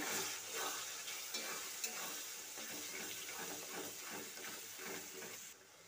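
Potato curry with peas and tomato paste is stirred in a pan in a Bengali kitchen, giving steady wet scraping and soft sizzling for several seconds, with no one talking.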